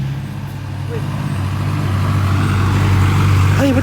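A lorry passing on a road, its low engine drone building steadily louder over a few seconds as it nears, with people talking over it.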